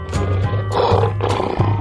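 A lion gives a deep, loud roar in several surging pulses, close and unbroken, with no talk on top.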